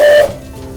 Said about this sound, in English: this is the whistle. The whistle works when I pull this handle